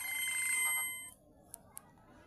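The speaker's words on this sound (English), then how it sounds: "somebody is ringing my phone" A mobile phone rings outdoors in a village, playing a short, bright electronic ringtone for under a second before it cuts off, leaving faint background ambience with a couple of small clicks.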